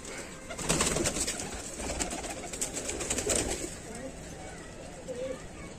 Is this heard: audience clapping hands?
no